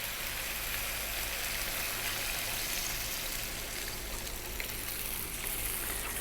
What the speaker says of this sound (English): So hot water, here we go.